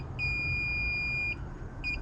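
An electric dirt bike's electronic speed controller gives two long, steady high-pitched beeps, separated by a short gap, over a low background rumble.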